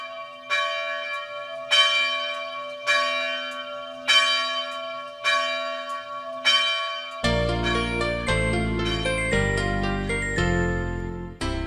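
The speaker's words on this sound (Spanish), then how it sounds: "suena lastimera la campana de la iglesia" A Soria church bell tolls mournfully, about six slow, evenly spaced strokes ringing out alone, then giving way to a denser, brighter run of overlapping chimes near the end.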